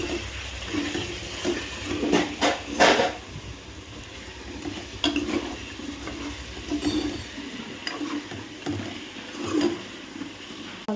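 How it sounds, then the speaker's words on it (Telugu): Chicken biryani masala being stirred in a pot after mint and coriander go in, with intermittent scraping and clinking of a spoon against the pan, fairly quiet and close, with a faint sizzle beneath. "పుదీనాకు వేసాక కొంచెం కలపండి."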